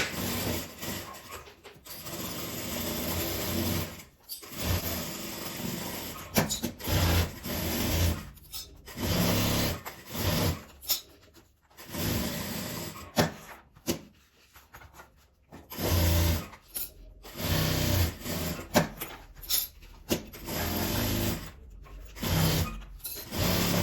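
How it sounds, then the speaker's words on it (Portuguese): Sewing machine stitching along the edge of joined fabric pieces, heard as bursts of rapid mechanical whirring broken by short pauses, close and fairly loud with no talking. "agora eu vou passar uma costura na beiradinha, unindo toda a minha peça"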